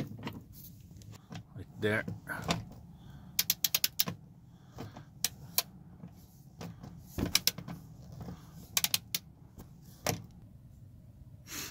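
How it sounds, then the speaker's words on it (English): A 10 mm socket backs out a screw holding the door control receiver module in a 2002-2006 Toyota Camry, giving scattered sharp clicks and ratchet-like ticks over a low hum with a few rustling handling noises. "the same 10 mm or 10 millimeter socket will be used to remove this right there."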